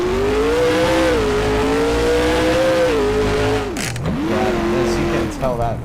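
A car engine in Garry's Mod idles and then accelerates, its loud tonal whine climbing and dipping as it revs through gears, close and continuous, with a brief drop and recovery near the end.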